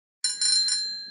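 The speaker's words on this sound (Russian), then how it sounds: "Велосипед." A bicycle bell rings with three quick bright dings, the last one ringing out and fading.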